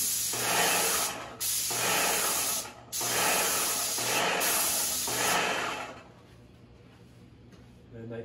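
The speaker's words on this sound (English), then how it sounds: "we're just gonna spray a top coat" A Graco X7 airless paint sprayer hisses loudly in bursts, with short pauses between passes, before the spray cuts off and a quieter background remains.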